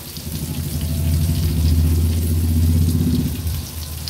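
Karli fish pieces frying in a pan over a low to medium flame, a steady low sizzle with a faint hiss that swells slightly in the middle and then eases, with no talking.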